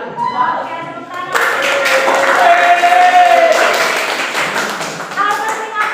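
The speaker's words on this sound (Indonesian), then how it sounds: "Oke, tepuk tangan." Classroom students clap together after a teacher's cue, a dense burst of hand claps building over several seconds with children's voices talking and laughing underneath.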